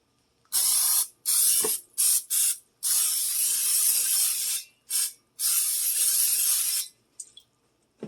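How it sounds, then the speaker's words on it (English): Short hissing bursts of butter cooking spray into a crock pot, several in a row with brief pauses, close and loud, with a faint clink in between. "I'm going to spray it with some butter spray"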